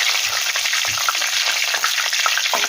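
Whole spices and curry leaves crackling in hot oil for Chettinad tomato kuzhambu, a dense, bright, continuous sizzle with scattered pops and light stirring taps, close and steady with no voices.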